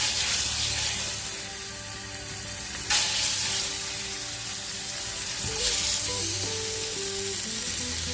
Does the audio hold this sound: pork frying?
yes